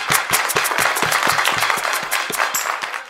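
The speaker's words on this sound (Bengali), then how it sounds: "হাততালি।" A small crowd at a village comedy stage show claps in a sharp, rhythmic run of distinct hand claps, close and loud, fading slightly near the end.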